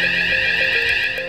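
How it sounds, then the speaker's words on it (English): A building evacuation alarm in an office sounds as a steady, loud electronic tone with a faint pulsing edge, held unbroken with no voices over it. "The evacuation alarm sounds like this."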